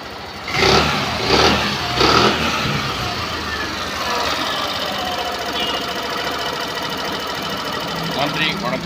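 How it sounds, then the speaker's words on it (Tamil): An engine runs steadily with a rough, rattling idle. A few loud thumps come early on, and the running sound carries on under a faint voice. "இன்ஜின் வந்து ரன்னிங்கில் இருக்குது."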